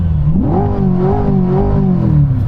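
A C8 Corvette's American V8 revs up in a rising, wavering growl, held at a steady pitch for a moment before dropping back, loud and close with no voices.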